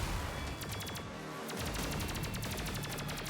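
Dense game combat noise from Terminator 2D: No Fate, with a thick run of rapid explosive bursts and gunfire-like cracks filling the clip at steady loudness, including a pipe bomb detonation among the barrage, with no talk.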